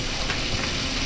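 Tomatoes and mung beans sauté in a pan with a steady, close sizzle and crackle that runs evenly through the short moment, with no talking.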